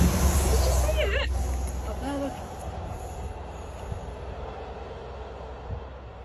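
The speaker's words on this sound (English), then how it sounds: "You see the train?" A train passes nearby with a loud rumbling roll that slowly fades, brief wheel squeals heard early on, while people talk excitedly over it.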